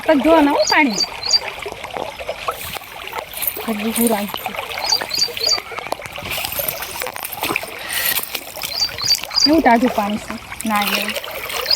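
Water splashes and trickles as someone washes their hands and feet outdoors in a village, with intermittent pouring and splattering nearby under loud, continuous conversation.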